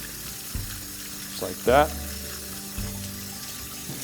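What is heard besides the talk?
washing Hatch green chiles under running water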